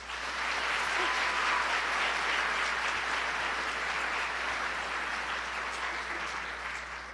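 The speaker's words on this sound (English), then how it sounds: "Can we give them a big round of applause?" Sustained applause from a crowd at a Halloween royal ambassador coronation ceremony in Anoka, Minnesota, steady and full for about seven seconds, with a faint low hum underneath.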